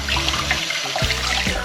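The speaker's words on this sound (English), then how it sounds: "I usually don't like washing dishes, but after a week in a camper without running water," Warm tap water runs steadily from a faucet into a camper sink during dishwashing, a close continuous splashing gush with small clinks and shifts in the flow, no voices.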